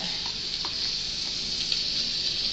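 Ground pork and small onion frying in a wok for spicy Chinese-style pork, with a loud continuous hiss and sizzle close up and light scraping and stirring sounds.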